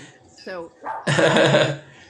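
A female dog gives a short whine and then a loud close bark-like yelp, in a quiet indoor setting.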